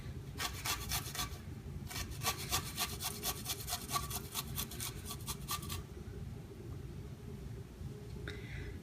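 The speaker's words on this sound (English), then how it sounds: "we're going to go ahead and grate this garlic right on in here" A clove of garlic is rubbed over a kitchen grater with fast, rhythmic scraping strokes. The sound is close and fairly quiet, and the strokes stop after a few seconds.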